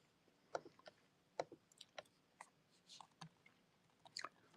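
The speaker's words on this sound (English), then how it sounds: "Can y'all hear me chewing my gum?" Gum is chewed close up in a quiet room, giving soft irregular wet clicks and smacks scattered at an uneven rhythm, faint but distinct.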